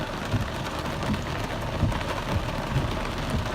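Heavy rain pours steadily during Hurricane Harvey near a flooded street intersection, a dense, continuous roar close by with occasional low rumbles and no talking.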